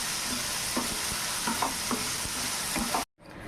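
Onion and tomato sauté in a pan for a noodle dinner, giving a steady loud sizzle with scraping stirs, then cut off abruptly near the end before a quieter sizzle resumes.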